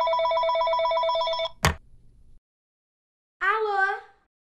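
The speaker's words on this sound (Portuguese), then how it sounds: "Deixa eu ligar pra ela." A telephone ringing tone with a steady electronic warble plays for about a second and a half, then a brief click as the line connects, and after a pause a voice speaks.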